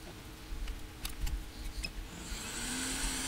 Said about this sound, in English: Just sort of dry the board with heat